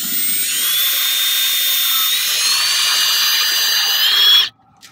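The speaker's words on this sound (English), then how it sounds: "Drill a hole." A power drill whines at high pitch for about four seconds, rising slightly as it bores a hole for mounting a rugged case to a roof rack, then stops abruptly; loud and close.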